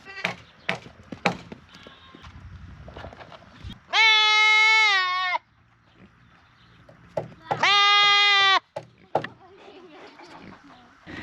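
Goats bleat loudly on a homestead, two long wavering calls separated by rustling, clattering handling noises and brief sounds of activity nearby.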